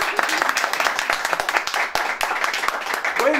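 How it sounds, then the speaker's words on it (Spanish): Studio audience applause on a variety show, a lively mix of crowd clapping with several sharp, distinct hand claps standing out close by, and voices calling out over it. "¡Un aplauso!"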